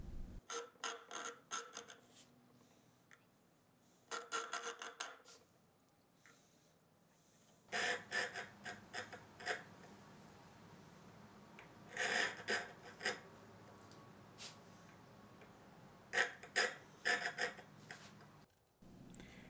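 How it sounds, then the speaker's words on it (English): A checkering file rasps jimping notches into the spine of a handmade knife blade, one of a batch of six, in short scratchy bursts separated by pauses, fairly close and with no talk. "Now I'm going to add some jimping to the knife using a checkering file."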